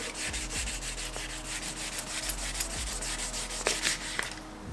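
Wet sanding of a car's clear coat with 1000 grit sandpaper: steady, rhythmic back-and-forth rasping strokes, close and even, with a low background hum and no talking.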